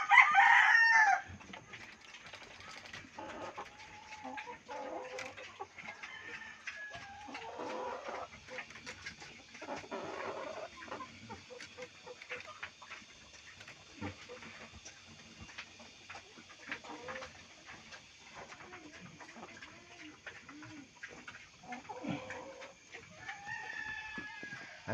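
Broiler chickens in a pen cluck softly and continuously at close range, with a loud crow or squawk at the start and scattered calls throughout, and a voice speaking faintly at times.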